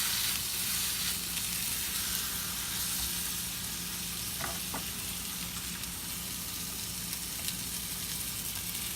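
Salmon sizzling in a pan beside Brussels sprouts, a steady, fairly quiet frying hiss with a couple of faint crackles partway through, no voices over it.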